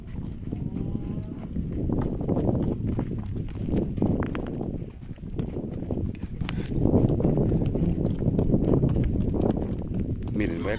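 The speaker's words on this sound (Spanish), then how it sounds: "Voy a grabar aquel caballote blanco." A white horse walks at a traditional rodeo, with hooves clip-clopping steadily under a dense, continuous crowd hubbub and someone talking nearby throughout.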